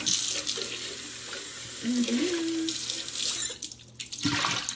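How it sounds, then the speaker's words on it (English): Hot tap water runs into a kitchen sink in a steady, close splashing rush, with brief faint vocal sounds over it before the flow cuts out and then resumes near the end. "I'm going to need some seriously scalding hot water for this"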